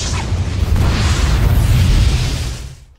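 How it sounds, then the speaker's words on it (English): A gunshot skill fires in the Blox Fruit video game, a loud sustained booming blast lasting nearly three seconds before fading out, with no talking over it. "That is the gunshot"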